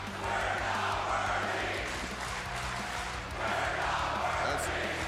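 A wrestling crowd chants in a large arena, a dense, rhythmic roar of many voices that swells twice over the stretch, with no other sound rising above it.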